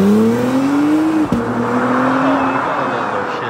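A 2017 Acura NSX engine climbs in pitch, drops sharply at a quick gear shift, then pulls up again, loud and close from inside the car.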